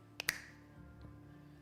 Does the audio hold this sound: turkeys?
no